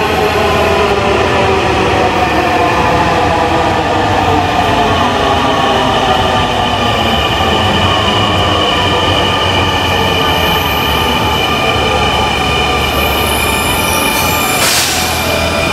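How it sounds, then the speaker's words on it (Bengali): A Dhaka metro train pulls into the station with a loud, sustained rumble and steady, high-pitched wheel squeal throughout, heard at close range with no voices. "কারণ এটা আরেকটা মেট্রো ঢুকতেছে, দেখতে পাচ্ছেন।"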